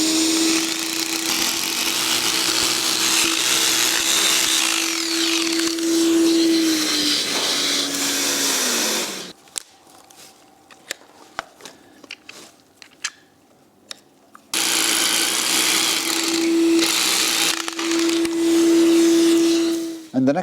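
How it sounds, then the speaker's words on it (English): A drill boring holes for the chemical anchors of a 4-ton two-post car lift column, with the column standing in place, a loud steady whine in two long bursts separated by a quieter pause with clicks. "Now we're going to drill the holes for the chemical anchors, and I'm going to do it with the pillar in place."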